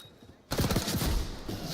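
Call of Duty gunfire in a competitive match erupts suddenly after a quiet moment, a dense, continuous burst of shots that stays fairly faint overall.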